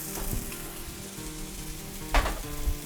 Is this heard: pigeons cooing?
no